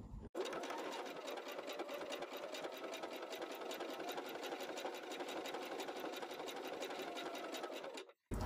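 A Family 200 Pro sewing machine stitches thin elastic knit fabric in one steady, fast, even mechanical whir that runs close and continuous for about eight seconds before stopping abruptly.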